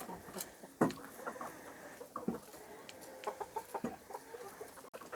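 Young chickens and a rooster or two cluck and scratch in their backyard pen, with scattered soft clucks and patters spread steadily through the quiet, fairly distant scene.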